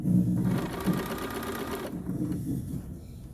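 A sewing machine runs a straight stitch at 2.5 length along a sleeve, whirring in a fast, close, continuous rattle for about two seconds before stopping, leaving only quiet handling sounds.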